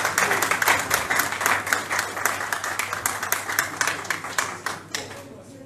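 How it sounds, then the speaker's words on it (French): An audience at a candidate's press conference in Brazzaville breaks into applause, loud at first and then thinning into scattered individual claps, with some voices mixed in. "Applaudissez."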